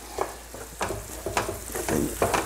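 A spoon works a mushroom mixture into carnaroli rice for risotto in a pan, giving repeated scraping strokes roughly every half second over a soft continuous sizzle, close and clear with no talk.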